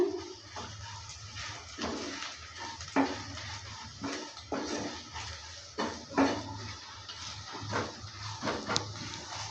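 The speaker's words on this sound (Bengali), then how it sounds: "সব কিছু দেওয়ার পর ভালো করে নেড়ে চেড়ে নিচ্ছে" Spices for chana masala being stirred in a pan, with repeated scraping and clinking of a utensil against metal over a steady low background hum, moderately close and with no talk.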